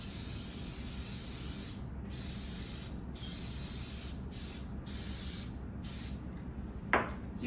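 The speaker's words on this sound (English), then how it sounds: "I'm using a floured spray." Floured cooking spray hisses into a cake pan in several short, close bursts separated by brief pauses, with a small clatter near the end.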